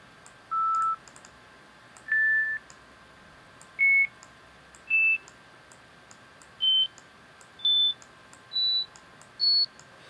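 Synthesized beep tones made in AudioMulch, starting at 440 hertz: eight short, clean electronic beeps, each higher in pitch than the last, evenly spaced and alone against a faint hiss.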